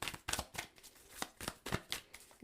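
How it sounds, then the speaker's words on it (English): A deck of tarot cards is shuffled by hand in a series of quick, crisp riffles and taps, close and clear, with no talking over it. "Capricorn, get shuffling"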